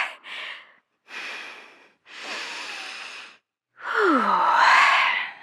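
Slow, deliberate breathing exercises done to calm down, four long audible breaths close to the microphone separated by short silences, the last one a deep, drawn-out exhale with a slight voiced sigh.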